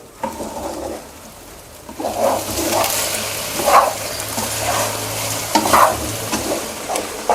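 Oyster omelette batter frying in a hot pan while being stirred, a steady close sizzle with scraping strokes and a few louder bursts, no talking.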